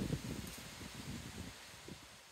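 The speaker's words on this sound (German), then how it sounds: "Nur mal um zu verdeutlichen, wie stark der Wind gerade ist." Strong wind gusts rustle through vegetation beside a small fishing pond, a steady broadband whoosh with low buffeting rumbles on the microphone, no talking.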